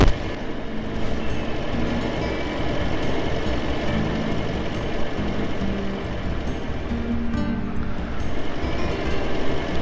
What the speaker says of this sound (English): I'm on the tram.